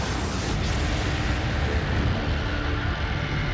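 A huge cosmic explosion of a collapsing star going supernova, rendered as a continuous deep rumbling roar that fills the whole stretch without letup, heavy and dense with no voices.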